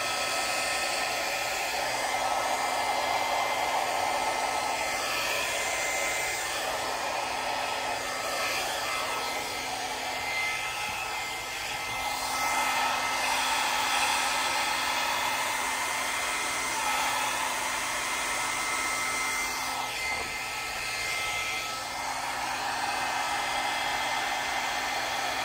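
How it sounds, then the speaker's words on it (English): A blow dryer blows steadily over poured acrylic paint, a continuous close whirring hiss for the whole stretch, with no talk. "Don't drag your blow dryer through it like I just did."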